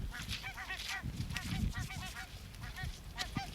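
Barnacle geese honk repeatedly in Friesland, a dense overlapping chorus of yapping calls from a flock, moderately near, over a low rumbling background with no voices.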